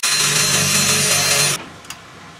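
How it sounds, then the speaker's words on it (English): A loud power drill whirs steadily into a wooden beam, drilling a guide hole for about a second and a half, then stops abruptly, followed by a brief small knock. "go ahead and drill your guide hole"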